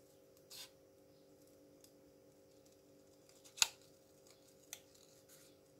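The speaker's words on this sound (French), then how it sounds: "On va découper ça correctement." Scissors cutting material in a few separate snips, one sharp, loud close cut in the middle and fainter snips before and after, set against a quiet steady hum, with no talking.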